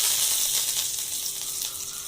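Mustard seeds, fenugreek and curry leaves sizzle in hot oil with a steady, loud crackling hiss that runs the whole time, with no voices.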